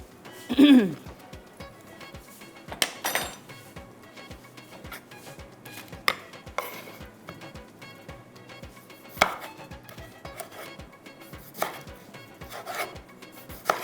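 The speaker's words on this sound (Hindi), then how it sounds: "इस तरह से आपने थिन स्लाइसेस कट कर लेने, ज़्यादा अच्छे रहेंगे।" Knife slicing a firm tomato into thin slices on a board, a quick steady run of sharp, close taps roughly every half second, with a few louder knocks and soft handling sounds between them.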